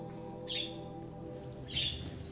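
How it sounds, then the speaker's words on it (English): Pet birds in a cage indoors give two short, bright chirps about a second apart, faint over a low steady hum. "Apologies for the birds."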